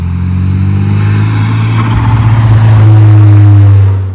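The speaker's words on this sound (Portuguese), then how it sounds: "deu para ouvir um pouquinho mais o som do turbo trabalhando" A Mitsubishi Eclipse with a K&N air filter drives with a loud, steady engine drone, rising as the turbo spools up and holding a strong, close hum to the end.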